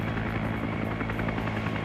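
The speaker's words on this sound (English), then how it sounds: "Bates is actually firing at a Huey" A Huey helicopter in a Vietnam War video game, its steady rotor thrum and engine roar continuous and loud throughout, with no voices over it.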